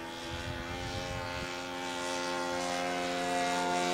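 A 1993 radio-controlled Piper Cub model airplane's small engine runs steadily with a constant droning buzz, close by and alone, holding an even pitch that grows slightly louder toward the end.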